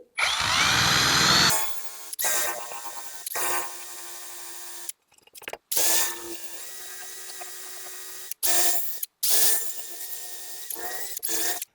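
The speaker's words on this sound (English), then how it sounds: "Just chuck it up in a drill." A power drill spinning a tape-removal wheel on an old wood cook stove whirs in several bursts, spinning up with a high whine and grinding, stopping between runs with brief silences.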